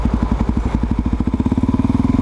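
A Suzuki DRZ400SM single-cylinder motorcycle idles up close with a loud, steady, thumping beat that quickens slightly toward the end.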